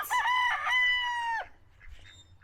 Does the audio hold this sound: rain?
no